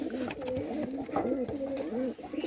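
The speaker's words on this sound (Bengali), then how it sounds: "এই মাদিটা অনেক ভালো একটা জাতের কবুতর" A large female pigeon of a fine breed coos close by in a run of soft, rolling throaty calls, repeating about four times with brief gaps, alone without talk.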